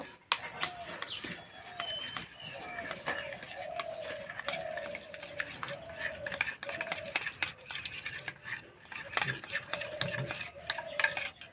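Flour dough with cornflour and white oil being mixed for khasta goja, heard as close, steady, rhythmic scraping and squelching strokes, with faint repeated tonal chirps in the background.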